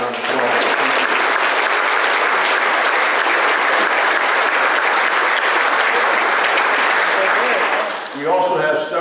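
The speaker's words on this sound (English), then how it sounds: "we can give them a round of applause" Sustained applause from a standing audience at a college athletic Hall of Fame ceremony, dense and steady for about eight seconds, then fading as a voice begins speaking.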